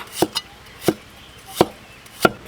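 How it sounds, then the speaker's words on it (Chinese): A knife slices stem lettuce (celtuce) on a board with four crisp, evenly spaced chops about two-thirds of a second apart, close and clear with no talk. "再把这个莴笋切片，随便切。"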